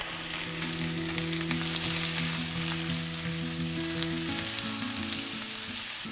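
Onions frying with baby potatoes, cloves and turmeric in a pan for biryani, a steady dense sizzle close up throughout, with a low tonal hum underneath and no talk.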